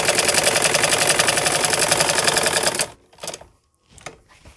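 Sewing machine stitching a mohri design on fabric, a loud, rapid, steady mechanical rattle for about three seconds that then stops, followed by a few faint handling noises.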